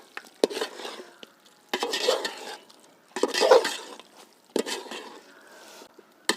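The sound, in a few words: stirring gravy with lemon juice and coriander leaves in a pan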